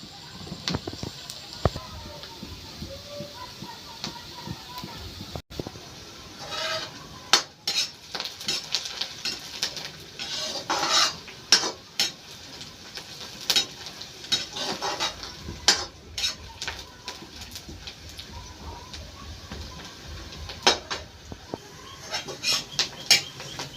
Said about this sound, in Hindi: मेरा प्याज भुजा गया है